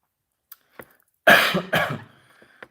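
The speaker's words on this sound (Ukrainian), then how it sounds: "щось я знов під вечір розкашлявся" Two harsh, close coughs in quick succession, preceded and followed by faint clicks in an otherwise quiet room.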